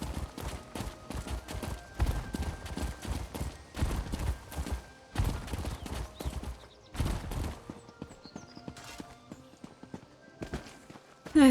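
Horse hooves gallop in the video game Elder Scrolls Online as a rapid, loud run of hoofbeats, which thins out and softens in the last few seconds under quieter game tones.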